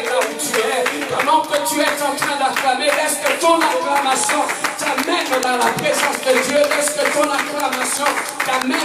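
Church congregation at a worship service clapping and cheering, rhythmic claps and shouts carrying steadily throughout, mixed with voices and lively background music.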